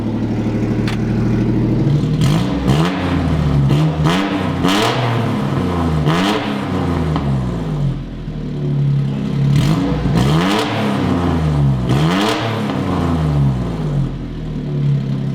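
Straight-pipe exhaust on a three-cylinder motorcycle-engined kei car, loud and close, revving repeatedly in rising and falling bursts with a rough, tractor-like rasp between blips.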